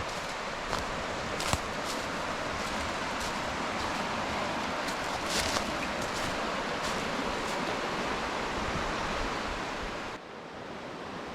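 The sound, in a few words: river cascades on the Jacques-Cartier River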